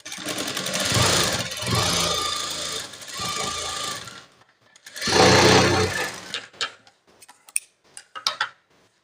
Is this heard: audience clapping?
no